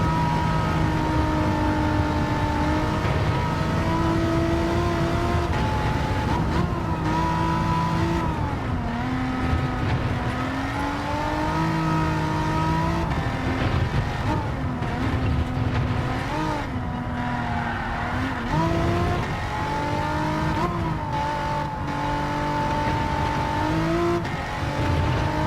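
Car engine in Gran Turismo 7 during a race lap, a steady loud engine drone with rising and falling pitch through gear changes, continuous and alone with no talk throughout.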